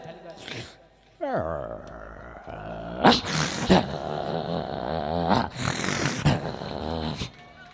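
A male dog gives low, rumbling growls and throaty grumbles up close, in several uneven bursts, with a human voice mixed in over them.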